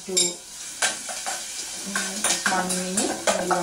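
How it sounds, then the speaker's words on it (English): Garlic and ginger fry in a pan for a Sri Lankan lamb curry, with a light sizzle under several close clinks and scrapes of a spoon stirring against the pan. "we can add garlic and ginger and fry it just nearly 1"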